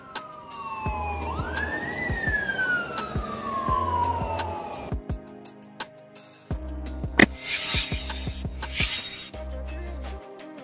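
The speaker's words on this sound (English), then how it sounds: "Police bus, a police bus often used to transport crowds or police personnel." A police bus siren wails in rising and falling sweeps, loud and close, with a second burst of harsher siren tones later and intermittent low engine rumble between them.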